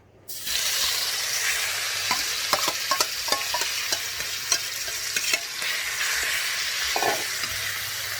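Minced pork stir-frying for laab khua in a hot pan: steady loud sizzling with repeated scraping strokes of a spatula against the pan, close by and without voices.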